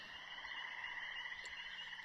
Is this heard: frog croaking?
yes